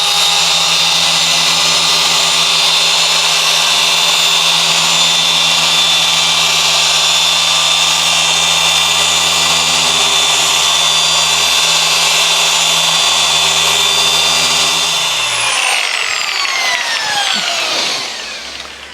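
Rupes orbital polisher running steadily on car paint to remove scratches, a loud continuous high-pitched whine with a humming drone that winds down near the end, close up and alone.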